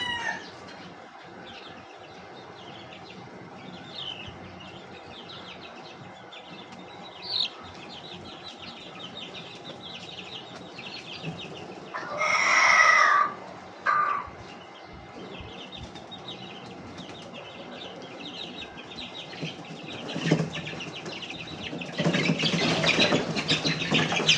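Hen of the Lemon 84 line and her chicks in a backyard coop, giving scattered soft clucks and faint peeps over steady low background noise, with a louder burst of hen calls midway and another toward the end.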